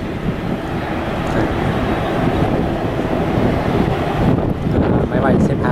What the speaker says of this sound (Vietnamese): đó là máy bay lên xuống